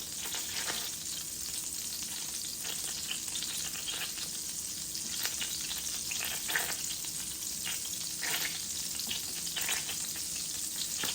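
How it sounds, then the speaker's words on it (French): Flour-dusted fish fries in oil with a dense, continuous crackling sizzle, loud and close, with occasional brighter pops and no one speaking. "moi je fais cuire le poisson dans de l'huile"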